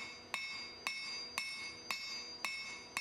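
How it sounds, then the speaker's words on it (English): A big wide-faced blacksmith's hammer strikes hot steel while forging a folded hatchet, six bright ringing blows at a steady unhurried rhythm over a constant background hum, close and clear with no speech. "I'm using a big hammer for this, mainly because it's got quite a nice wide face."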